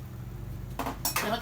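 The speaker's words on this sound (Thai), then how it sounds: "ปิดกันไว้ก่อนเขาจะปิดฝาหม้อไว้ก่อนนะครับ" A lid is set on a cooking pot while papaya sour curry is being made, giving two short metallic clanks near the end of a quiet stretch with low kitchen hum.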